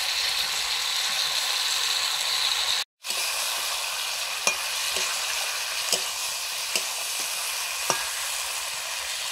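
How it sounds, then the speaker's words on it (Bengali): Cauliflower and potatoes fry in a pan of spiced masala, giving a steady loud sizzle with a few sharp clicks and scrapes of stirring, briefly cut to silence once near the start. "মশলা কষানো হয়ে গেছে, ফুলকপি আলুটা দিয়ে দিচ্ছি।"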